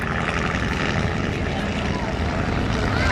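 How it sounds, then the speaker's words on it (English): A Nieuport 28, the WWI fighter of Eddie Rickenbacker, flown by an 83-year-old pilot in a mock dogfight, drones overhead with a steady, loud propeller-engine roar, a voice audible beneath it. "Eddie Rickenbacker's airplane being flown by 83-year-old Jerry Fotheringham"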